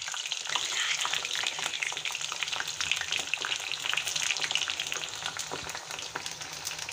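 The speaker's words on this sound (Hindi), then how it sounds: "अब इसमें आलू छोड़ देंगे डीप फ्राई होने के लिए।" Potatoes deep fry in hot, smoking oil, a dense crackling sizzle with rapid bubbling pops that runs steadily, close and moderately loud, with no voices.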